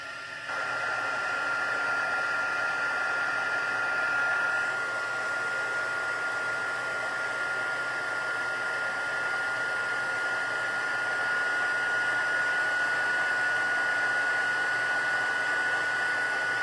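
A handheld heat embossing tool blows hot air over a card-making project, a loud continuous whooshing hum with a steady high whine that runs unbroken from start to finish.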